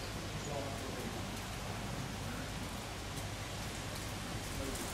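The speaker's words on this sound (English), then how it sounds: "That's heavy rain there sweeping through." Heavy rain sweeps across a fishing lake as a dense, even hiss of drops, steady and fairly quiet throughout, with no clear talk over it.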